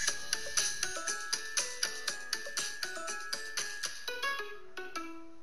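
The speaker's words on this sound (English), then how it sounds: "Ken, your buddy's ringing." A phone ringtone plays during a Fortnite event stream, a quick repeating melodic pattern of bright tones pulsing roughly every third of a second, steady and clear with no talk over it.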